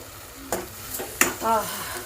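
Slit green chillies and curry leaves fry in hot oil in a pan, a soft sizzle broken by a couple of sharp spoon clinks and a short stirring scrape, close up.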